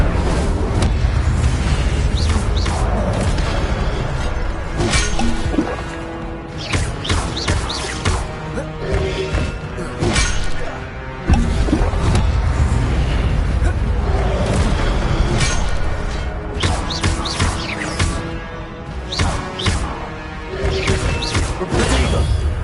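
Incendio fire spells going off in Hogwarts Legacy, with loud, close booms and crashing bursts that repeat steadily over a long stretch, sometimes with crackling debris between them and a few brief voice snippets.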